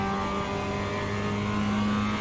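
Race car engine in the SimLab Production Car Challenge at Summit Point, a racing video game, holding steady high revs with a constant loud drone and whine throughout, no one speaking.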